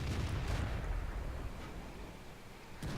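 A tank gun in World of Tanks fires a blind shot, a heavy booming blast at the start that rolls off into a long, dense rumble, with a second sharp crack near the end.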